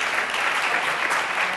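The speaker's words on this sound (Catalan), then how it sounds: "Un fort aplaudiment també per ells." Audience at a word-game event gives strong, continuous applause, a brief sustained wash of many hands clapping at even loudness.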